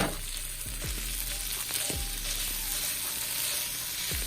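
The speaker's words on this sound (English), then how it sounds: "Next, I'm gonna add in my tomatoes." Tomatoes tipped into a pan of frying beef and red onion set off a loud, constant sizzle, with a few sharp clanks of a spoon or spatula against the pan.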